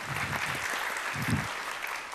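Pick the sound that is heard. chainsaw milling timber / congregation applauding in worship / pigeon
congregation applauding in worship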